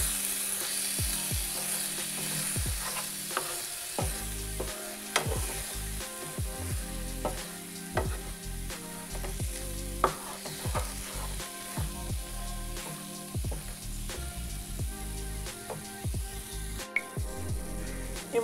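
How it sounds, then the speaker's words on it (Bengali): Pointed gourd sautéing in its own released water, a steady close sizzle with repeated rhythmic spatula scrapes and stirring strokes across the pan. "পটল থেকে যে জলটা বেরিয়েছিল এটা দিয়েই আমি কষিয়ে নেব"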